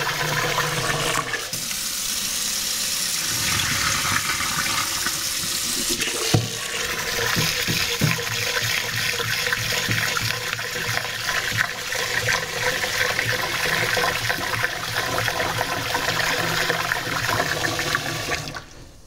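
Continuous sloshing and swirling of rice being washed in water in a rice cooker pot, with running tap water and occasional clinks, steady and close throughout.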